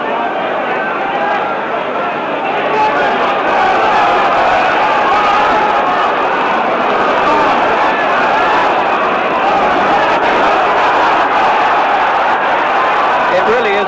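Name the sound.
Wembley boxing crowd cheering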